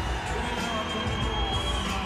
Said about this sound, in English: You can hear the reaction from the crowd